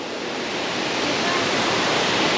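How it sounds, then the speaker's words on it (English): Kroeng Krawia waterfall in Khaolaem National Park, Thailand, the fourth tier of a seven-step cascade, roars as a loud, steady broadband rush of falling water close by. "Ah, the fourth waterfall."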